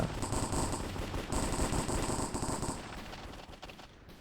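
Rapid automatic gunfire in a Minecraft Counter-Strike mini-game on the de_Aztec map: a close, continuous rattling burst for about three seconds that then tapers off, with no talking.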